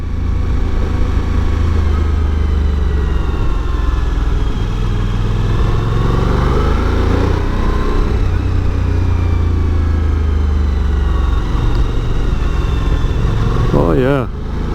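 A Suzuki V-Strom 1000 motorcycle engine drones steadily and close throughout a test ride, with a loud continuous low rumble that rises and falls slightly with throttle, joined by a brief rising whine near the end.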